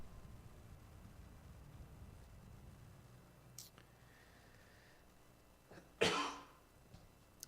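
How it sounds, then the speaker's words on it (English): A person with a cold lets out one sharp, close cough near the end, preceded by quiet whispery murmuring and a faint throat noise. "I have had a cold for the last few weeks and a cough in my throat that I just can't leave behind"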